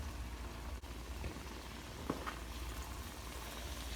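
Soy sauce hits a hot pan of chicken stir-fry, giving a steady, moderately quiet broadband sizzle with a few brief pops and clicks and no talking.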